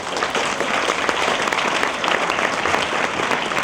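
A packed science-fiction convention crowd at Eastercon 2010 claps loudly and continuously, a thick, even roar of many hands that stays strong from start to finish, close and unbroken by speech.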